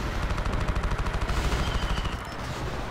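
Rapid machine-gun-like blaster fire from a Star Wars Battlefront II battle, a dense, steady stream of shots rattling at an even rhythm, loud and close, tapering slightly near the end.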